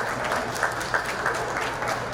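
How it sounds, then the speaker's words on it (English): Audience applause at a heritage celebration event, a short burst of many hands clapping in a dense, even patter that holds steady for a couple of seconds. "Round of applause."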